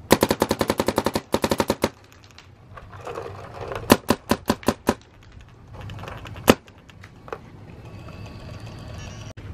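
Rapid bursts from a Geo 3.5 gun, sharp clattering shots in quick strings, a long volley early on, then spaced groups of louder single cracks over a low background hum.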